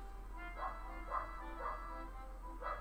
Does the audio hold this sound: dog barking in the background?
yes